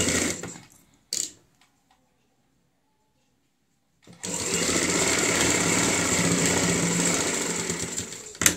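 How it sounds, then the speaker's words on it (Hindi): A sewing machine stitches the placket on a kurti's high-neck collar, a short burst at the start, a pause of near silence, then a long steady rapid whir of stitching to the end. "अब हम यहाँ पे इसको इस तरीके से रखते हुए सिलाई लगा लेंगे।"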